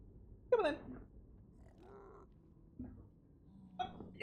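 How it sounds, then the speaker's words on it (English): Pet cat named Jasmine meowing near the microphone in a quiet room, with a few short, separate calls spaced out over a few seconds. "I have a cat. Keep making meow noises."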